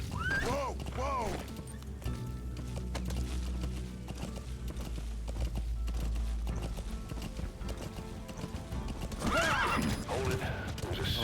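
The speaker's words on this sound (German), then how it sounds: "Pferde sind laut, ne?" Horses in the video game Metal Gear Solid V whinnying loudly at the start and again near the end, with hooves clopping and game sounds underneath while someone talks over it.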